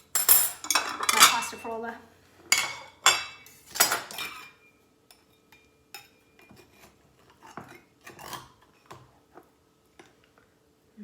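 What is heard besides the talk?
cutting Libby's pumpkin pie with cutlery on a plate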